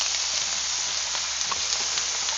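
Potatoes and carrots sizzling in a skillet with extra olive oil and smoked sausage, a steady close, dense hiss with faint pops and crackles throughout, no talk.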